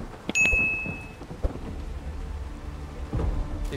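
Steady rain pours in the video game Ark Survival Evolved, a dense broadband hiss with low rumbling thunder, a bright ding-like chime near the start and the downpour swelling again toward the end.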